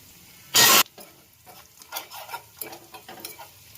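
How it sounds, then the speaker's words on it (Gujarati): A dal fry tadka with asafoetida sizzles in hot fat. A loud hiss bursts briefly as the spice hits the pan, then gives way to lighter, scattered crackles and spoon-stirring scrapes, close by with no talk. "આપણે દાળ ફ્રાયનો તડકો મારી દઈએ. થોડી હિંગ નાખી દઈએ, સ્પેશિયલ હિંગ."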